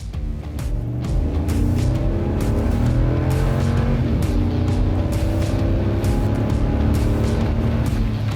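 A Ram 1500 pickup with a 5.7-litre V8 growls loudly under acceleration, its deep engine note rising and shifting steadily for about eight seconds, close and continuous with no talking.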